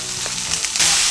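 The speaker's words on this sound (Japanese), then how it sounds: "長ネギはですね、炒めることによって甘みが出ますんで、ちょっとね、炒めてくださいね" Long green onions and chicken stir-fry in an oiled pan, giving a steady bright sizzle that swells louder near the end, close and without talk.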